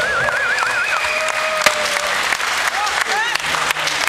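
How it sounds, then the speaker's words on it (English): A festival crowd at an outdoor blues stage claps and cheers in a steady, dense wash of applause, with scattered whistles rising over it. "Give yourself a round of applause."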